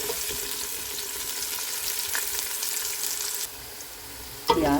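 Onions frying in a pan for anardana bhindi, a steady close sizzle with faint stirring, dropping quieter near the end before a brief clatter and louder burst of sizzling.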